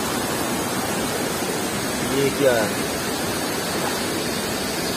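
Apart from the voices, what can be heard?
water rushing at a waterfall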